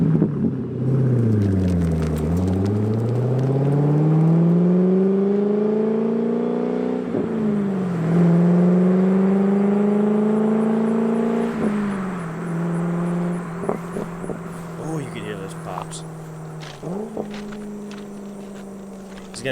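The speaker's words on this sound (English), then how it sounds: "now that we got the headers, we're gonna really make this thing scream. So it's gonna be loud." A C5 Corvette with a Billy Boat Bullet axle-back exhaust and headers revs repeatedly, its loud V8 rising and falling in several long throttle sweeps, then settling into a rumbling idle with short blips near the end.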